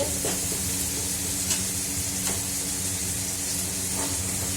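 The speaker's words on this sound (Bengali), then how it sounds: "এই যে মশলাটা কষিয়ে গেছে, আর ঠিক ছেড়ে দিচ্ছে," Spice paste sautéing in a pan, a steady close sizzle with faint stirring scrapes running throughout, no talking.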